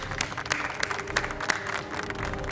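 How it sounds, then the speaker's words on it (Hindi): Studio audience claps loudly for chef Rakesh Sethi on a Bhojpuri TV cooking competition show, a dense, steady burst of many hands with sharp individual claps popping out through the whole stretch. "एक बार जोरदार तालियां हो जाए शेफ राकेश सेठी के लिए"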